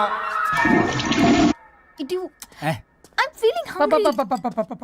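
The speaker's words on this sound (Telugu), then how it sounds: "సారీ రాజా, ఫ్లష్ కొట్టడం మర్చిపోయావు రాజా" A toilet flushes in a Telugu comedy scene. It is a loud, close rush of water lasting about a second and a half, then cuts off abruptly, and voices follow.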